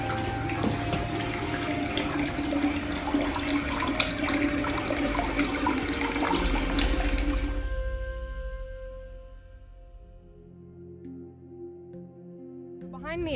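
Water runs steadily at Providence Spring on the Andersonville prison site, a continuous close splashing flow that cuts off partway through, leaving quieter outdoor ambience.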